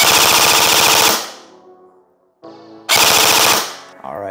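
An MGC4 MK2 airsoft electric gun fires in full auto, giving two rapid mechanical bursts with the motor whirring, separated by a pause and short clicks.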